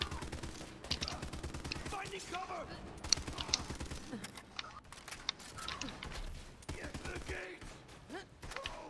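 Borderlands 3 co-op firefight with bursts of gunfire and a grenade blast, rapid shots clustered at the start and again near the end, heard under game music and players talking.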